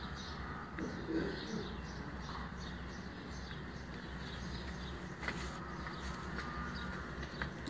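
Pigeons coo softly and repeatedly at a rooftop loft, low murmuring calls blended into a steady background hum with faint chirps and occasional knocks.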